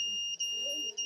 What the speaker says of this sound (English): After I am placing the object below 10 centimeters, it's making buzzer sound to alert.